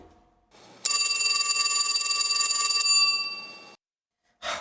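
A telephone rings with a steady, bright electronic trill that holds for about three seconds and then fades out, followed by a brief noise.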